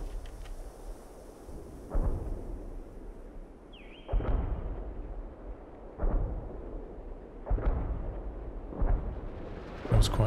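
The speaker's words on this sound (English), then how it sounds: "Now I'm going to activate sector artillery" A sector artillery barrage in a Company of Heroes 2 style strategy game falls as a series of about five distant, heavy explosions spaced a couple of seconds apart, each a dull boom with a rumbling tail over a low background hum.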